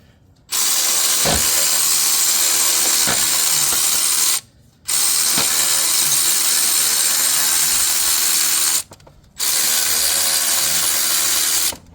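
A power tool rattles and hammers on the idler pulley bolts of a Land Rover Discovery 2 to shock them loose. It runs loud and close in three long bursts separated by short pauses.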